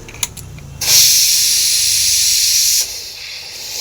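Meat and masala hit a hot pan and burst into a loud, steady sizzling hiss that holds for about two seconds, then drops back to a softer simmer, with no voices.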